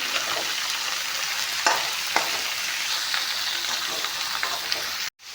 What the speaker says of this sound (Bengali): এয়া চাওঁ মাংসখিনি অলপমান ভাজি লৈছোঁ